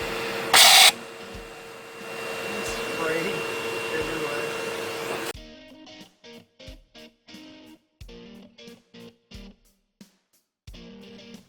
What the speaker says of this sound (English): So we got out the compressed air, and we're going to try and blow it out